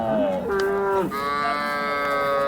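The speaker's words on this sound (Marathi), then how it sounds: "बघून घ्या जर्सी गाय आहे मित्रांनो" A Jersey cow moos loudly and close by, a long drawn-out low call that bends in pitch, followed by a second sustained moo with no talking.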